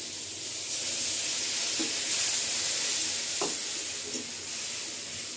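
Ground spice paste frying and being stirred in a pan for a bata fish curry, a steady close sizzle and hiss with a few soft scraping stirs and no talking.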